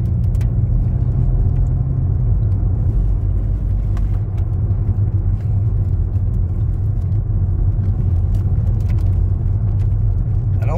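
Inside a Volkswagen Golf GTI MK8 cruising in sport mode on a road: a steady low engine hum and road rumble fill the cabin, even and subdued with no revving and no talk.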